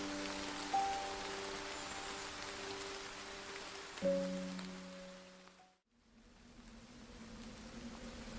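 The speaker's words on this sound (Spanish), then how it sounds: "se pueden empezar a oír gotas de llovizna que caen sobre los fuegos en los campos de pasto" Light drizzle patters as a soft, even hiss with faint sustained tones over it and a brief dip to near silence partway through.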